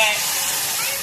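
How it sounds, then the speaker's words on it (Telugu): Water hits a hot pan of paneer curry and sets off a loud, steady steam hiss and sizzle that fades only slightly over about a second, with no voices. "ఇప్పుడు దీంట్లో కొంచెంగా వాటర్ యాడ్ చేద్దాం"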